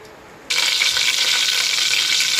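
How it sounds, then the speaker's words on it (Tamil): Cinnamon, cloves and curry leaves dropped into hot oil for a paneer biryani burst into a loud, sudden hiss that holds steady and close after a brief quieter start. "ஆயில் சேர்த்துக்கோங்க. சூடாகட்டும். பட்டை, கிராம்பு போட்டுக்கோங்க. கருவேப்பிலை போட்டுக்கோங்க."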